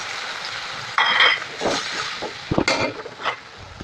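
A spice mix with dried red chilli, five-spice tempering and green chilli fries in a pan, a bright sizzle flaring up after a quiet start, broken by stirring scrapes and pan knocks.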